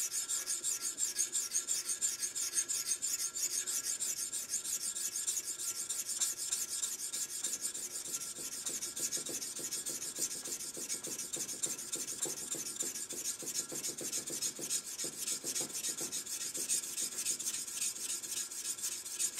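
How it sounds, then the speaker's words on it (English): Steady rasping rub of grit sandpaper backed by a hard metal bar, polishing a hand-forged seax blade, continuing unbroken at close range with no voices. "It's time to move up the grit ladder and finish polishing the blade."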